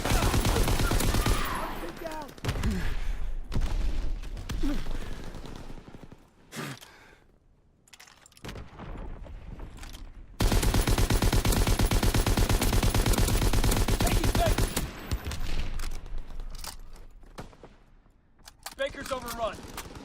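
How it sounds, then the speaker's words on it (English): Call of Duty WWII multiplayer gunfire aimed at an overhead UAV: repeated bursts of rapid automatic shots in clusters, broken by short quiet gaps, with a voice talking throughout. "I need to shoot down a UAV"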